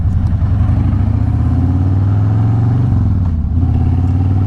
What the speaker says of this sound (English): This one comes with Vance & Hines pipes, and so if you purchase this motorcycle, you've got that aftermarket sound built right into the motorcycle